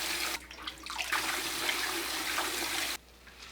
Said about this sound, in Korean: 찬물에 3-4번 헹궈주세요.